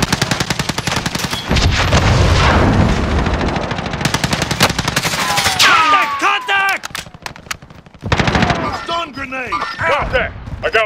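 Call of Duty Warzone combat with a rocket launch and heavy gunfire, loud rapid bursts of automatic fire, booming blasts and hard impacts, up close, with short gaps between volleys.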